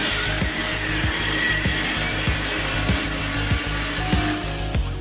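A cheap Walmart lithium-ion cordless screwdriver whirs against a stuck screw, its clutch clicking in a steady, rapid ratcheting rhythm for several seconds, close up with a faint high whine above.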